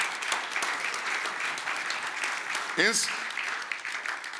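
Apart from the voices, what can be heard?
congregation applauding in church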